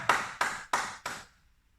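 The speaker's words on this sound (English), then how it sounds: "Give yourself a round of applause" After a HIIT workout, a single person claps four times in a steady beat, sharp and close, and then there is silence.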